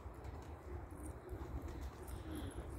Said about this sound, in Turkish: Kümesimiz çok, kuşumuz çok.